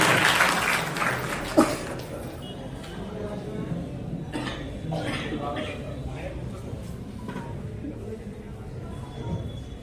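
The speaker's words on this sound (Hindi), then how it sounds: "जोरदार तालियां श्री राज सिंह के लिए" Applause from a crowd at a political gathering in Aligarh, welcoming speaker Raj Singh to the stage, moderate and fairly distant, with murmuring voices and a sharp knock or clink early on.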